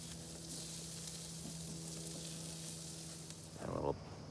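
Jalapeño popper stuffed burgers frying after a flip, a steady soft sizzle with a low background hum and a brief louder crackling burst near the end, no talking.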